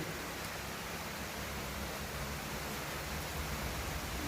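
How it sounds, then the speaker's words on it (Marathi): Heavy rain pours outside a dhaba at night during a storm, making a dense, steady wash of hiss that stays even throughout with no voices. "पावसाचा तडाखा भरपूर आहे आता दिसत नसेल पण साऊंड तुम्हाला ऐकू येत असेल"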